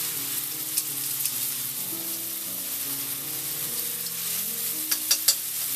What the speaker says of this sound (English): We want to nicely fry up these onions and the garlic until they're a tiny bit brown.